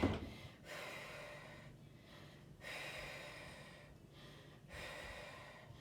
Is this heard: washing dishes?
no